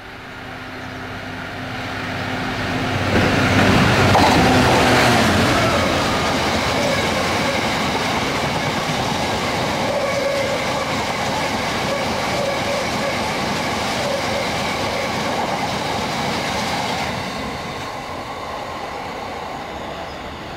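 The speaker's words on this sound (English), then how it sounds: "here's the last train coming" A train rumbles past near Manton by Rutland Water, swelling loud over a few seconds, holding a steady heavy roar with faint wheel clatter and squeal, then fading away at the end.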